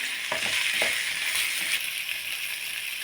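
Mustard seeds and urad dal for a chutney sizzle steadily in a hot pan, a close, continuous frying hiss with a few soft stirring scrapes early on and no talking.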